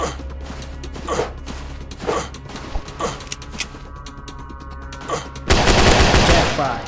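Machine gun fire in the Fire Strike shooter game: scattered loud bursts of shots over a low hum, then a sudden dense roar of sustained firing near the end.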